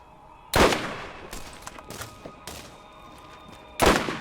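Sniper rifle gunfire in the Borderlands video game: a loud, sharp shot opens and another closes, with softer, shorter bangs spaced between them.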